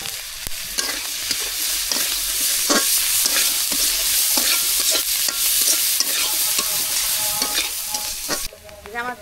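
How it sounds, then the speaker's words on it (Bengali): Onion and green chili frying in oil in a pan, a loud close sizzle with repeated scraping stir strokes, easing off near the end. "এখন পেঁয়াজ কাঁচামরিচ দিয়ে দিলাম তেলে"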